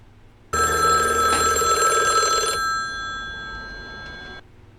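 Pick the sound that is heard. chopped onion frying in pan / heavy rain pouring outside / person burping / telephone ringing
telephone ringing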